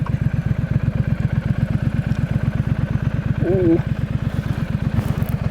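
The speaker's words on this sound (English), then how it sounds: "This is the 2019 Triumph Street Scrambler in all of its glory." A 2019 Triumph Street Scrambler idles in neutral on gravel, a steady, even, close engine throb with a brief rider exclamation over it partway through.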